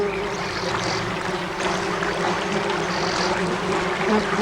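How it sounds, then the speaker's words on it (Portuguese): Bees gather to drink water in the desert, a steady buzzing drone that holds continuously at moderate loudness, with no voices. "estas abelhas vieram beber."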